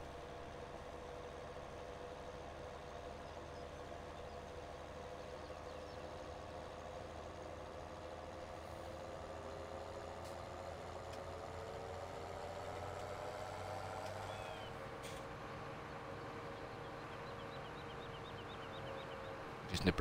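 Tractor engine in a farming video game hums steadily while pulling a heavily loaded tipper, a continuous mid-pitched drone whose tone shifts slightly as the load drags, ending in a brief clunk.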